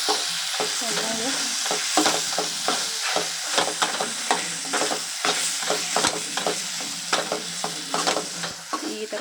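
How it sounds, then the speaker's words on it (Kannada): Liver frying in a pan with chili powder and salt while a spoon stirs it steadily, giving repeated scraping strokes over a continuous loud sizzle, with no voices. "ಖಾರ ಪುಡಿ ಹಾಕ್ಕೊಂಡಿದ ನಂತರ ಈ ಥರ ಮಿಕ್ಸ್ ಮಾಡ್ಕೊಳ್ಳಿ"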